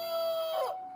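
A rooster crowing call, likely an imitation or sound effect during a live stream, one short crow rising near the end over a steady tonal hum.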